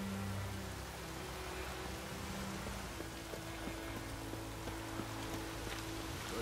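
Rainfall in The Witcher 3: Wild Hunt pours as a constant broadband wash of droplets, close and unbroken, layered over soft held low notes of background music, with no one speaking.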